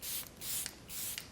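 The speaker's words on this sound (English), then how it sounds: "One first round of the Charlotte Tilbury Airbrush Flawless Setting Spray." Charlotte Tilbury Airbrush Flawless Setting Spray misted onto a face in three close, soft hissing bursts, quiet and alone.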